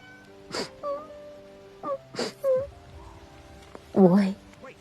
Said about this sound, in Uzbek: mushuk bolasi